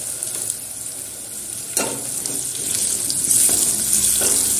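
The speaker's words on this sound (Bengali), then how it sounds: "আলুগুলো একটু ভেজে নিই। এগুলো নতুন আলু।" New potatoes, seasoned with salt and turmeric, fry in spiced oil in a pan, giving a steady loud sizzle with occasional stirring scrapes and clacks over it.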